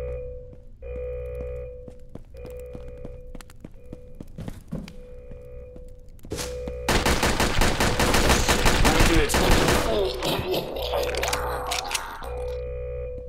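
Rapid automatic gunfire bursts from the Red Alliance shooter game, dense and loud from about six to twelve seconds, with quieter single shots and tones before and after.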